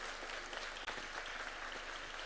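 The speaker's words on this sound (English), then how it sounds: "Why don't we give them a clap as they come in" Audience applause as dignitaries enter a science complex exhibition at a summit, a dense, continuous patter of clapping that sounds somewhat distant and quiet, with a brief dip partway through.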